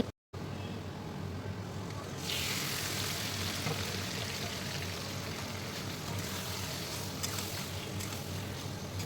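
Chopped onion, bay leaf and garam masala fry in oil in a wok, giving a continuous close sizzle that grows louder after a brief gap at the start and then holds steady.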